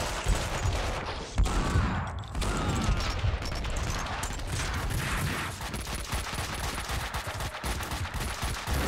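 Gunfire in Max Payne 2: The Fall of Max Payne, dense volleys of loud shots with sharp bangs cracking through a constant background of combat noise.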